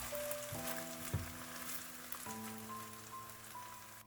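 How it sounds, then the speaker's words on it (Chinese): Beaten eggs fry in hot oil in a wok with a faint, steady crackling sizzle, quiet throughout, with a soft low tonal hum underneath. "下面锅中倒入适量的食用油，油热之后将搅散的鸡蛋液倒进来"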